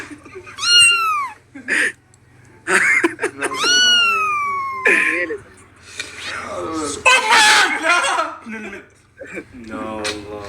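A voice imitates a cat, drawing out several rising and falling meows in a row, loud and close, with other voices chattering between the calls.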